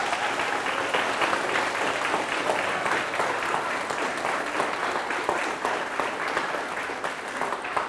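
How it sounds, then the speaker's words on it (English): A building full of people applauds educators in a steady, dense wash of clapping that holds at an even level for the whole stretch, with no voices breaking through. "we're going to have a round of applause for every educator that is in this building right now"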